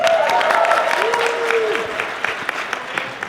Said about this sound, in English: That was way more applause than I think he should deserve.